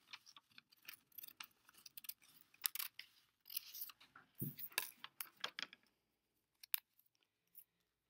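Scissors cut through paper in a series of quick, crisp snips and rustles, close and quiet, with short pauses between cuts and a few isolated clicks toward the end.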